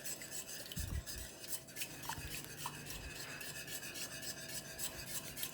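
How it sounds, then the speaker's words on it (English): A red Thai curry mixture being whisked by hand, with steady scraping and stirring strokes of the whisk against the bowl, soft and close, with no one speaking. "I will add it slowly and keep on mixing it so that it doesn't curdle"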